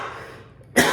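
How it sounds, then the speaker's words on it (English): One sharp, loud cough bursts out after a moment of quiet, close to the listener. "Sorry, I have to cough."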